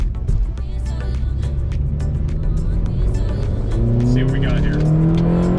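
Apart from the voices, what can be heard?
Honda Civic Si sedan engine accelerating while driving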